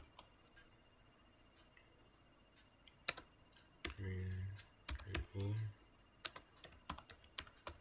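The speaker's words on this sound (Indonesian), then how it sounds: "terus kita coba menjalankan playbook, itu kita ketikkan Ansible playbook" Keys on a computer keyboard are struck in short bursts of sharp clicks, typing an Ansible playbook command, close and fairly quiet in a still room, with brief low hums between the taps.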